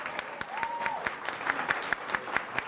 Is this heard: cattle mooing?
no